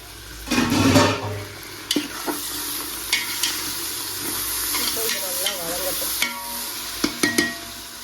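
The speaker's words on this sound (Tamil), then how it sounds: "புதினா கொத்தமல்லி சேர்த்துட்டு ஒரு 2 தக்காளி அதையும் சேர்த்துக்கலாம்." Mint, coriander and tomatoes sautéing in a pan for prawn biryani, a soft sizzle broken by several sharp spoon clatters and stirring scrapes, close by with no talk.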